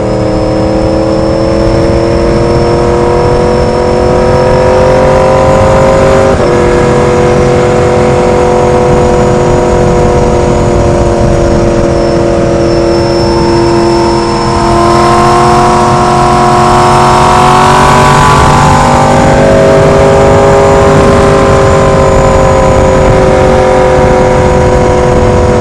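A 2016 Yamaha R1 roars loud and close while ridden in cold weather, its engine note holding steady with rising and falling pitch shifts as the throttle opens, a continuous dense drone over wind rush for the whole stretch.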